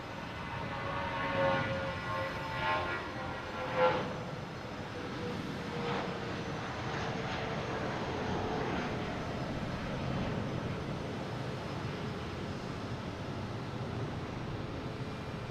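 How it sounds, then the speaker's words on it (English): A JetBlue Airbus A320 takes off at Boston Logan, bound for JFK: a steady broadband engine roar at moderate distance with a few brief tonal whines, holding fairly level throughout without speech. "we got a JetBlue taking off to JFK, an A320"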